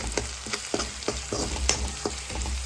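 Grated garlic and ginger frying in a pan for kaju masala, a steady close sizzle with repeated soft stirring scrapes about every half second, no voices.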